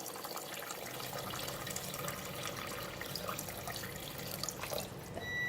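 Water pours and splashes steadily into a pot of pork and salted mustard green soup for several seconds, a soft continuous trickling fairly close.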